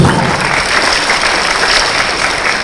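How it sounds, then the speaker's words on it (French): A room full of people at an African Union presidency debate applauds loudly and steadily, a dense wash of clapping throughout. "avec vos applaudissements"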